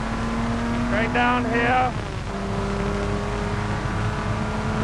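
A Jaguar race car drives down the Mulsanne Straight with a steady, loud engine roar and wind noise, its pitch briefly rising and wavering, while someone speaks over it.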